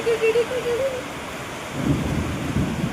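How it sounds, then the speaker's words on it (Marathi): Heavy May rainstorm with wind and thunder: a steady roar of downpour, and from midway a deep, loud rumble of thunder rolling in close, with a brief faint tonal sound at the start. "वीज बघा केवढी चमकते आवाज येत असेल तुम्हाला."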